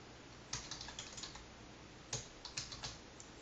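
Typing code on a computer keyboard while setting up Selenium WebDriver automation, scattered key clicks in short bursts and single presses, close and fairly quiet against a low room hiss.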